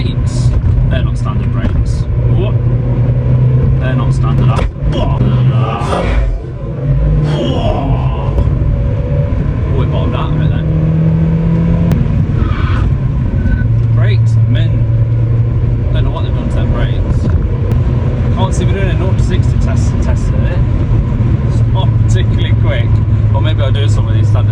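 A 1.8-litre second-generation Mazda MX-5 NB drones steadily from the cabin while driving, its engine note shifting pitch with gear changes and rising revs, loud and continuous under intermittent talk.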